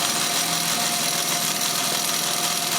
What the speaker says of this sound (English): The steam engine's always noisy.